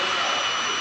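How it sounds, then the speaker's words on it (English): A J60 jet engine on a jet car winds up at a drag strip event, a loud, steady, close broadband roar with a rising whine, alone without talk. "You can hear the big J60 engine start to wind up."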